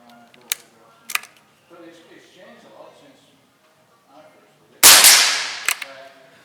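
An air rifle firing .177 pellets gives sharp single cracks, two short snaps early on, then a louder crisp shot with a decaying hiss and a final click, with quiet talk between shots.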